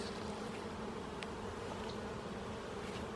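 Honey bees buzz steadily throughout a beehive inspection, a dense, continuous drone of many insects close by with no talking.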